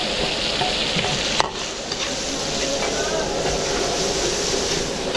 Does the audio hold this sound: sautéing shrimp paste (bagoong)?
yes